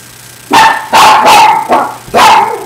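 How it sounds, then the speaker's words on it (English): A pet dog indoors barks five loud, close times in an uneven burst, each bark sharp and full. "That's my dog. And she barks at everything that moves."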